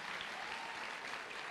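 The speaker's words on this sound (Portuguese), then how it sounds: "Pode dar uma salva de palmas para Jesus." A church congregation claps together in dense, continuous applause, brief and steady.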